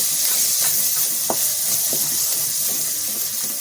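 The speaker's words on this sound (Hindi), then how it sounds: "अदरक लहसुन भुनने के साथ ही हम इसमें चिकन डाल देंगे" Chicken frying with ginger and garlic in a pan over a high flame, giving a loud, steady, close hiss of sizzling with occasional faint stirring clicks and no talking.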